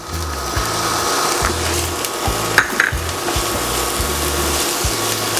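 Garlic sautéing in a pan for pininyahang manok: a dense, steady sizzle with scraping stirring sounds over a low rhythmic hum, close and continuous throughout.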